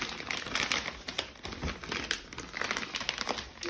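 A plastic bag of cheap laundry washing powder is handled up close, giving continuous crisp crinkling and rustling with no speech.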